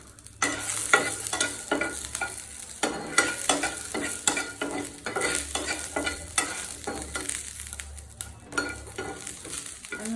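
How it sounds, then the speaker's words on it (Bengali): Chilies fry in a pan with a steady sizzle while a utensil scrapes and stirs in quick, repeated strokes; sounds are close and continuous, with no voices. "হচ্ছে মরিচ গুলা ভাইজা নিব"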